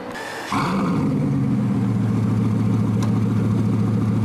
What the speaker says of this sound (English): got in the car and started up. It sounds amazing with the Mansory exhaust system.